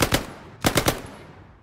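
Machine gun fire in the WWII shooter Hell Let Loose at El Alamein: two loud, close bursts of rapid shots, two rounds then a three-round burst, each trailing into a fading echo, no talking.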